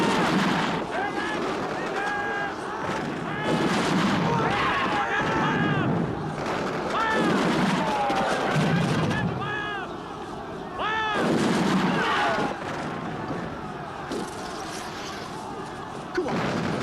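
Battle scene from the film Zulu Dawn with booming artillery and gunfire, heavy repeated blasts under shouted voices and a rough, noisy roar that carries on loudly throughout.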